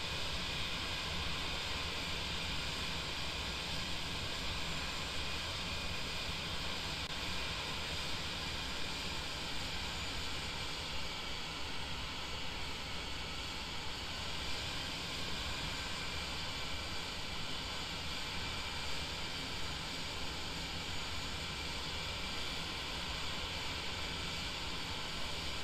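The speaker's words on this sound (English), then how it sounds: "as we taxi through the general aviation area" A light aircraft taxiing through the general aviation area of an airfield beside a flying school, heard as a steady, loud, broadband engine and propeller roar mixed with hiss, unbroken and with no talk.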